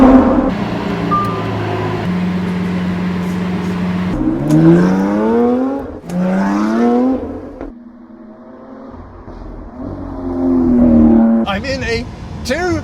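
A Lamborghini Sian hypercar, one of only 63 built, drives on a test track, its engine rising in pitch through several strong accelerating revs with brief lifts in between, loud and close throughout.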